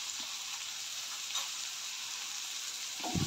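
Onion, tomato and turmeric sizzle steadily in a pan for an okra bhaji, a continuous close frying hiss with light stirring and a brief utensil scrape near the end.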